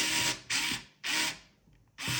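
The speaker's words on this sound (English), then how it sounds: "drilled a few holes in the shaft" A power drill boring holes into a 3D-printed bike drivetrain shaft, three close whirring bursts of roughly half a second each separated by brief pauses, with no voices.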